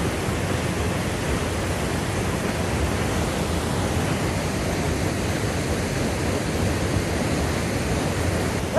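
A waterfall in the Olympic Mountains roars as a steady, dense rush of falling water, loud and unbroken for the whole stretch, with no voices.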